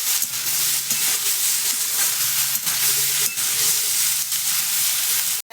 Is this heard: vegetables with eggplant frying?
yes